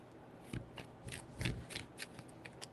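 Tarot cards being shuffled by hand: a series of soft, close riffling bursts and papery flicks in an uneven rhythm, quiet and alone without talk.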